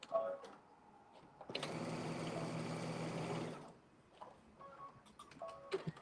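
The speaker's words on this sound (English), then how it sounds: "he's sewing the edge of the elastic right now" A sewing machine stitches elastic onto a bubble skirt edge in one steady run of about two seconds, bracketed by soft handling clicks and faint background chatter.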